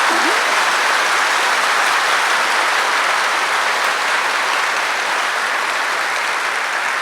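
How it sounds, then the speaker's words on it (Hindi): A crowd applauds loudly and steadily at a spiritual gathering, the clapping dense and continuous from start to finish with no talk over it. "दीदी के लिए तो जोरदार ताली बजाए"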